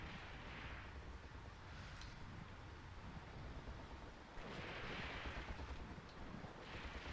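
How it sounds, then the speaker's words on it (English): Artillery from a major German attack in the WWII game Graviteam Tactics, set at the Second Battle of Kharkov: faint, distant rumbling booms that swell and fade in waves, with no talk. "That sounds like a major German attack."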